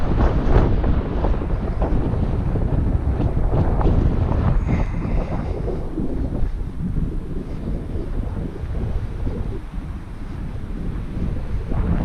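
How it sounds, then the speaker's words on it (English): Strong gusts from an incoming storm front batter the microphone outdoors, a loud, continuous roar and rumble that surges and eases slightly for about twelve seconds, with no voices. "here comes the wind from that storm front coming in"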